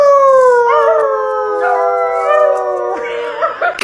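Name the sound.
family of dogs howling together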